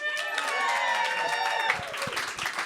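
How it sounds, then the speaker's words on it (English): An audience at a Washington AI Network event cheers and claps steadily. The sustained roar of applause and voices is close and fairly loud, and the clapping becomes more scattered near the end. "it's so good you're cheering"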